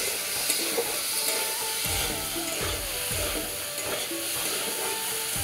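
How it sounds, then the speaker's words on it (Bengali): Potatoes fry with salt and turmeric in hot oil already used for frying paneer, a close, steady sizzle broken by soft scraping stirs. "এখন দিয়ে দিব লবণ, হলুদ গুঁড়ো দিয়ে আলুটা ভালো করে ভেজে নিব।"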